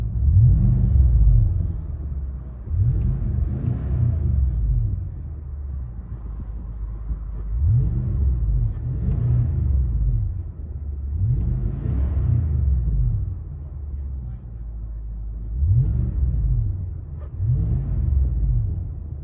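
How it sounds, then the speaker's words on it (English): A Nissan Armada 5.6L V8 fitted with a Borla Pro XS muffler and the rear resonator kept, heard from inside the cabin: a deep exhaust rumble swelling into repeated revs roughly every two to three seconds, then falling back to idle. "Nissan Armada muffler swap. Basically did a Borla Pro XS, left the rear resonator on."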